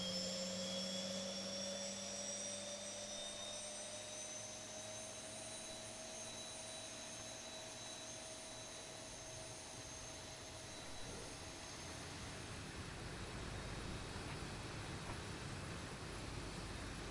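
A Boeing 737-800 jet engine spools up in the X-Plane 12 flight simulator, a steady whine with rising tones under a broad rushing hiss that thickens toward the end, heard faintly and alone.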